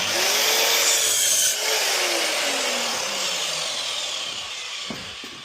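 A saw trimming a small piece off a length of wood while fitting an electrical box: a continuous, close, rasping cut that runs steadily for several seconds with a faint squeal drifting through it, no speech.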